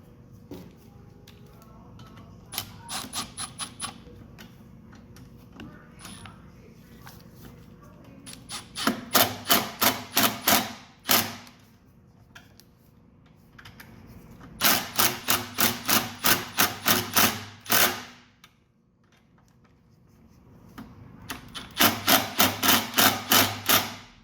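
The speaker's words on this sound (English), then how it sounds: "we just got to tighten up these studs" Carburetor studs being tightened on a Tecumseh engine of a Craftsman lawn mower, heard as repeated bursts of rapid ratchet clicking separated by quieter handling noises.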